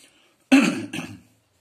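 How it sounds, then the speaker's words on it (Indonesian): One person gives a single harsh cough followed by a shorter second burst, close and loud against near silence. "Batuknya gak bagus nih"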